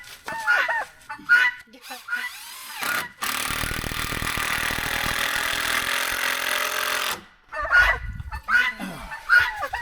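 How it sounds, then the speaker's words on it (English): Chickens and other fowl cluck and squawk close by in a backyard coop under construction, with a long burst of power tool noise in the middle. "all these birds are so annoying"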